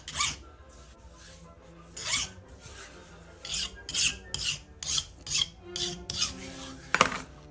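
A hand file breaks the edge of a metal bench-top anvil part with a series of rhythmic rasping strokes, about a dozen close, crisp scrapes with short pauses between them.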